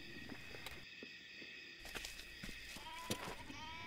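A herd of goats bleats in short overlapping calls outdoors, some near and some farther off, amid rustling and faint footsteps.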